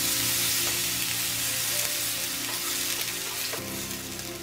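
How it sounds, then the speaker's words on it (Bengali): Taki fish frying in a pan after water is poured in, giving a steady loud sizzle with a sharper burst near the end, no voices. "তারপর আমি পানি ঢেলে দিব"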